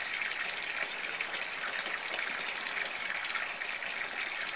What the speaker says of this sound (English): And it should start overflowing soon.